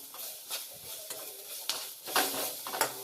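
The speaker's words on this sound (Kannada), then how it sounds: "ಈರುಳ್ಳಿ ಫ್ರೈ ಆಗ್ತಿದೆ ಈಗ ಕರಿಬೇವು ಕರಿಬೇವು ಹಾಕೊಂಡು ಫ್ರೈ ಮಾಡ್ಕೊಳ್ಳಿ" Onions and curry leaves frying in a pan for a South Indian okra stir-fry, with soft continuous sizzling broken by several scraping stir strokes and light clinks of a spoon against the pan.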